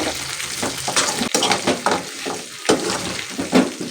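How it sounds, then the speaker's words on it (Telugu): Mutton curry fries in a pan with a steady, close sizzle, broken by repeated scraping strokes of a spoon stirring the meat. "చూడండి, బాగా వేగిపోయింది కూర."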